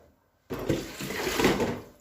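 Water poured into a pot of washed cocoyam on a kitchen stove, a close, steady splashing pour lasting over a second and tapering off.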